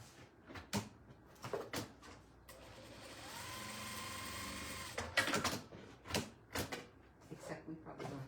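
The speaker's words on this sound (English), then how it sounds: "we're going to butt the seams together and sew a 1/4 inch down there" Sewing machine stitching a quarter-inch seam on a vintage Christmas sampler quilt block, one steady run of about two seconds in the middle, with clicks and handling noises before and after.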